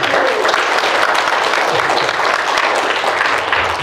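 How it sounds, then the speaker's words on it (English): Wedding guests at a church ceremony clap their hands together in full, dense applause, loud and continuous throughout. "Give my hand clap."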